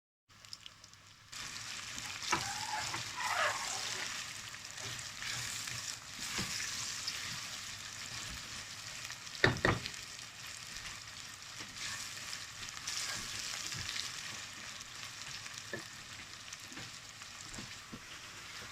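Mixed vegetables with onion frying in a pan, a steady broadband sizzle running throughout with occasional stirring clatters and one sharp scrape near the middle, fairly close and moderately loud.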